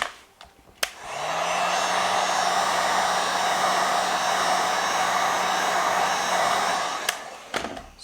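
A heat blower runs steadily close by for several seconds, warming tint film on a Tesla Model 3 rear light, with a steady broadband whoosh and a low hum under it, starting and stopping with brief clicks.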